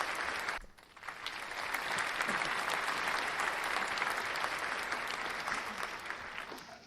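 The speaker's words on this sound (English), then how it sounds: "Everybody give them a round of applause." Dense audience applause welcoming guest hosts on a shooting-sports talk show, a continuous wash of many hands clapping that briefly dips near the start then holds steady and full, with no speech over it.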